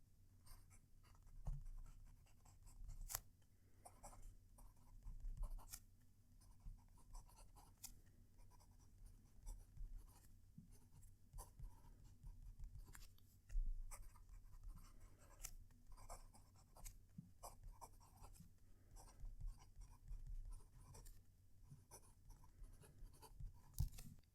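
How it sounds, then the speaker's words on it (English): A fountain pen nib from FPR scratches across paper with the microphone close, giving soft, irregular scratchy strokes and taps in short bursts separated by brief pauses, quiet and alone. "reposition the microphone as close as I can to the paper so you can hear the nib as it writes"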